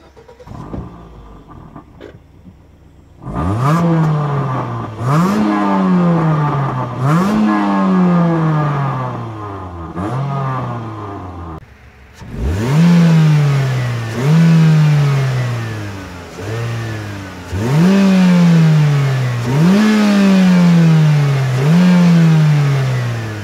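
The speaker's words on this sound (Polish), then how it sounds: "Posłuchajcie jak brzmi silnik." A Mitsubishi ASX 1.6 petrol engine revs hard again and again, each rise in pitch followed by a fall, with a short pause before another run of loud revving.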